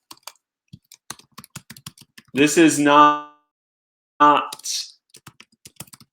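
Scattered clicks of typing on a computer keyboard, tapping lightly and irregularly throughout, with a person talking briefly over the keystrokes partway through.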